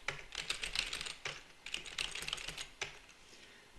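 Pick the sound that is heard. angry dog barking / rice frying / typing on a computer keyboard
typing on a computer keyboard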